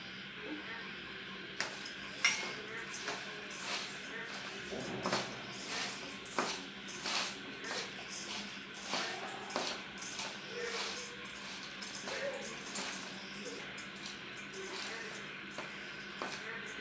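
Spicy fried snacks being mixed by hand in a bowl, with soft rustling, crunching and occasional clinks against the bowl, quiet and close, while a voice talks intermittently.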